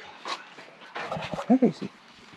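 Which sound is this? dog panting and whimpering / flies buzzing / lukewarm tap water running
dog panting and whimpering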